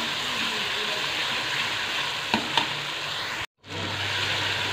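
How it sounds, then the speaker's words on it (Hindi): Green chilies, ginger and garlic frying in masala, a loud, continuous close sizzle with a couple of sharp stirring clicks, cut by a brief silent gap before the frying resumes. "एक मिनट के लिए इसको भी हमने अच्छे से भून लेना है मसाले के अंदर"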